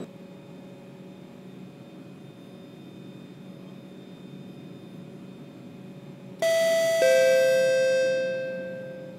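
Quiet ambient hum, then a Roblox train's bright two-note door-closing chime sounds suddenly on a Singapore C151 train, its tones ringing and gradually decaying over a few seconds.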